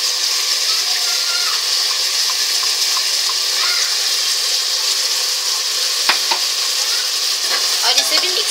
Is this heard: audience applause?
no